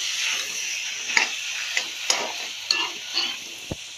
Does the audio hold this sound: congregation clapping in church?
no